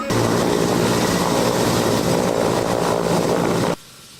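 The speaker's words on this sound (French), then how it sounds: "Un hélicoptère Mi-171 de l'armée de l'air se pose à Djema dans la région de Nioro du Sahel." A Mi-171 military helicopter of the air force lands at Djema in the Sahel region of Mali, a loud, dense rotor and turbine roar holding steadily for nearly four seconds before cutting off abruptly.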